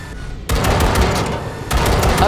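Rapid bursts of gunfire at calibration targets in the Cyberpunk 2077 video game, two loud sustained volleys of automatic fire separated by a short gap, close and dense.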